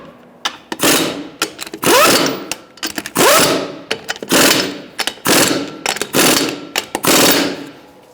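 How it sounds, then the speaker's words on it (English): Ratchet wrench with a 21mm socket tightens wheel lug nuts on a Hyundai Accent in repeated bursts of fast clicking separated by short pauses, loud and close. "Using a 21mm socket, we're going to tighten up in a crisscross manner."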